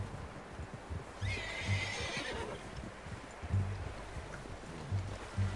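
A horse in Red Dead Redemption 2 whinnies once, a bright mid-length neigh, over a soft outdoor bed of hoof clops and ambient noise, fairly quiet overall.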